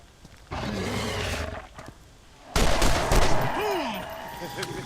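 Gunfire in the Borderlands video game while shooting down skags, with two loud bursts of shots separated by a short lull and a creature's roar or howl rising within the second burst.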